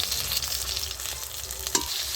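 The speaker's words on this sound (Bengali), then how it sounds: "এখন লাল করে মাছটা ভেজে নিয়েছি" Pieces of pona fish (carp) frying red in hot oil in a pan, a steady close sizzle with a sharp spatter near the end and no talking.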